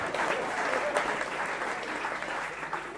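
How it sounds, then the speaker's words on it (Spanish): Audience applause from a crowd of Argentines, steady dense clapping held at an even level throughout, fairly close and filling the whole stretch. "los argentinos aplaudan. Aplaudan de vuelta"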